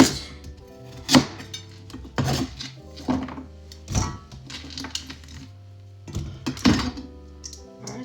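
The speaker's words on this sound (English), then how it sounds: "Just chop it." Carrots being chopped with a knife on a board for a homemade carrot juice, a steady run of sharp, close thunks at an uneven pace with brief pauses between strokes.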